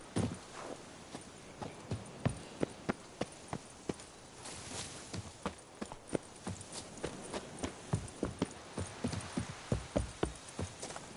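In a video game, the horse Roach runs with steady clip-clop hoofbeats, crisp and close, over a constant outdoor ambience.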